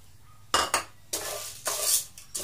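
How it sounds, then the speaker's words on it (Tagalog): Popcorn kernels are stirred in oil in a hot pan with a few sharp metallic scrapes and clinks of the utensil against the pan over a faint sizzle. "Ihalo muna natin para mabasa po ng konti itong ating corn sa mantika."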